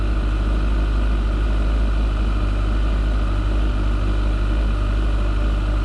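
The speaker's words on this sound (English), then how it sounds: "I'm going to take the bike around the block here." A motorbike with a freshly charged battery and its side cover off idles steadily, a constant loud low engine drone with a fixed throbbing hum and no variation or voices throughout.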